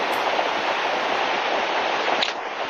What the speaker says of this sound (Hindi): काफी शोर इस नदी में होता है